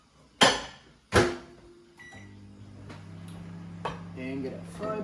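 A microwave oven runs while heating a single serving of scrambled eggs, a steady low hum after two sharp door or button clicks, with a few light ticks and a faint voice over the drone.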